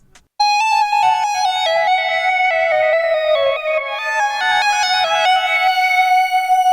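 A bright, bell-like synth lead plays a stepping melodic pattern over sustained chords, steady and fairly loud throughout with no voices.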